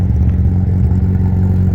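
An 8-valve car engine runs with a loud, steady, rough revving drone at a Nurburgring event, close up, with no talk heard.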